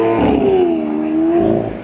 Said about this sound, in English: Aventador's on the move.